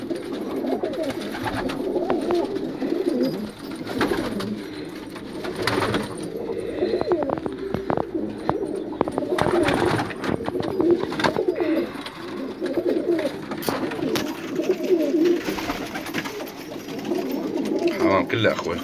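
Pigeons coo steadily throughout at an old farm loft in Syria, layered with rustling and bird movement, with someone talking over them in Arabic.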